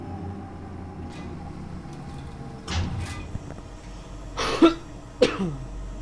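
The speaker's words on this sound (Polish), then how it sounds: "kaszel jak jasna cholera mnie dusi" Heavy coughing from a person, several harsh bursts spaced apart, the last two louder and close, over a low steady background hum.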